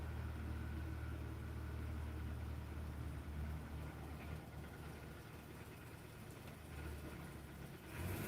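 A truck rolls past outdoors as a steady low engine rumble that holds throughout and swells again near the end, with no voices over it.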